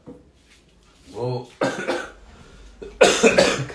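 A man gives a few harsh coughs in quick succession with some throat clearing, close and fairly loud, with voiced sounds between the coughs.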